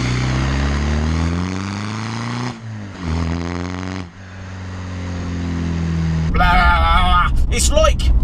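A 1.9 litre turbodiesel VW Passat drones steadily while driving, its engine note rising and dipping through gear changes before a rougher, louder roar takes over near the end; a voice is faintly present.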